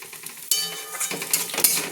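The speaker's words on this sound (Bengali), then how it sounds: "দিয়ে এবার এটাকে আমি ঘেঁটে দেবো" Bottle gourd stirred with coconut powder water in a pan, brief scraping and clinking of a spoon against metal in a few quick strokes, close and fairly clear.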